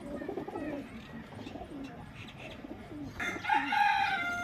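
Teddy pigeons coo in low, throaty repeated calls close by in Lahore, with a sharper, louder bird call breaking in near the end; no clear speech is heard.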